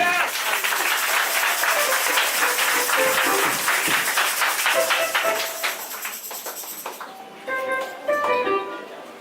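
A church congregation at a worship service led by a prophet claps loudly and steadily in acclaim of Jesus, with voices mixed in; the clapping fades as music rises near the end.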